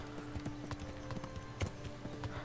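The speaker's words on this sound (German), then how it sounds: "Wir reiten mal ein bisschen langsamer." Steady clip-clop of a ridden horse's hooves in the medieval game Kingdom Come Deliverance, with regular, moderately loud footfalls and a low hum underneath, no talking.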